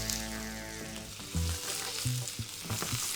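Potatoes frying in a hot pan with a little vegetable oil, a steady crackling sizzle with a few sharp pops and clinks of stirring, close and alone.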